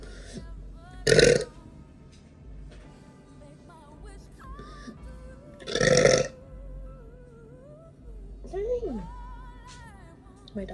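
A young woman burps twice, loud and close, each belch deep and lasting about half a second, with some quiet talking in between.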